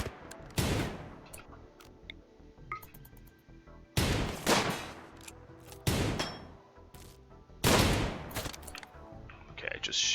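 Gunfire in the colony-management video game RimWorld: four sharp, loud shots spaced a couple of seconds apart, each with a brief ringing tail, over quiet ticking game sounds in between.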